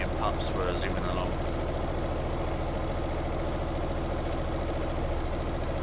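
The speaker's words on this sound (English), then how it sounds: "Should have put the engine at the back of the train, then it's not so noisy." A noisy train engine in the building game Stormworks drones with a steady, rough, knocking rumble that holds constant throughout, close and prominent, with faint clicks early on.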